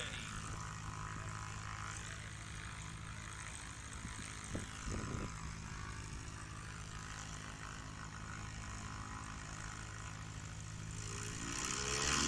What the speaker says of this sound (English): Nick Ardillo, Titan 180 horsepower, off nice and short.